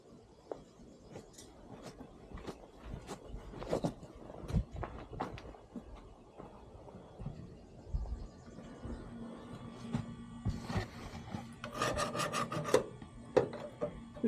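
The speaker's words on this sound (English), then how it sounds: "Just gonna give this quick scrape." A tool scrapes to clean around a seal seat, making faint, irregular rasping strokes close by with occasional light knocks.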